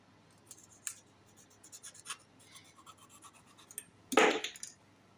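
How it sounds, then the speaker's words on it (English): Package cut open during an airport inspection: soft scratchy cutting and rubbing noises, faint and close, building to a louder tearing burst near the end, with no talking. "Cut it open clearly so that."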